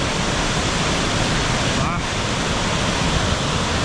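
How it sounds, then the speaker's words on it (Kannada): Abbey Falls in Madikeri pours with monsoon flow, a loud, constant roar of rushing water that fills everything, with a faint voice briefly heard under it. "ಫಾಲ್ಸ್ ನೋಡಿ ಹಿಂಗಿದೆ."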